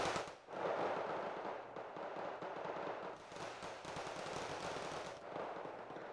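Dense automatic gunfire in the Wargame: Red Dragon battle, a continuous rattling stream of bursts that stays loud and close throughout with little pause and no talk.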